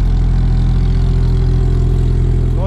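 Mini JCW GP R53 engine fitted with a full Milltek exhaust and headers, a loud steady idle with deep low rumble held throughout, no talk over it.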